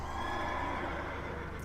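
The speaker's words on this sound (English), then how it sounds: "Come here, horse." A horse in a video game lets out a short neigh with faint hoof clops, heard alone and fairly quiet.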